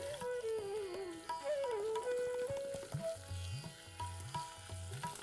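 Chillies, cumin and ginger fry in hot ghee with a soft, continuous sizzle under prominent melodic background music.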